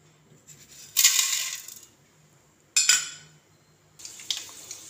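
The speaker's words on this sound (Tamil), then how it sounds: "கடுகு உளுந்த பருப்பு நல்லா பொரியுது." Mustard seeds and urad dal spluttering in hot oil in a pan, heard as three sharp bursts of crackling and popping that each fade quickly, with quiet gaps between them and no talk.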